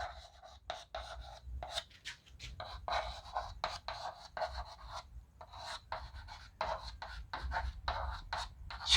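Marker or chalk writing on a board during a Class 10 chemistry lesson, rapid scratchy strokes in short irregular bursts with brief pauses, close and fairly loud over a low background hum, no speech.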